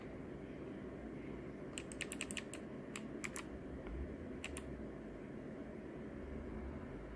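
Typing on a low profile mechanical keyboard: a short burst of crisp, quiet key clicks in quick succession, then a couple more taps, over a steady background hum.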